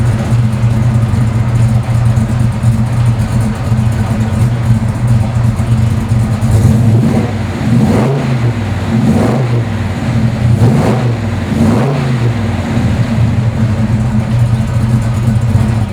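A 1969 Chevrolet Camaro RS SS 396 L89 convertible idles with a deep, steady V8 rumble, then blips its throttle in several quick revs that rise and fall before settling back to idle.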